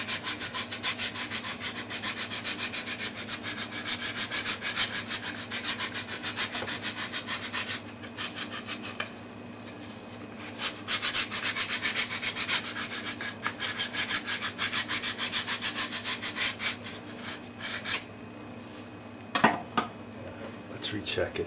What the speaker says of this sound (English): I've got some sanding sticks here